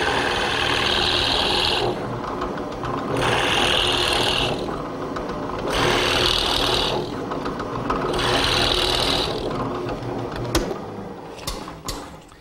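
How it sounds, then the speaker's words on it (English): Drill press with a plug cutter boring four plugs from a scrap mahogany board in a workshop, a steady high whine and rasping cut in repeated bursts of about two seconds, each pause followed by a fresh plunge, then scattered clicks at the end. "I'll just chuck that in the drill press. I'll just use a piece of scrap mahogany here and cut 4 plugs"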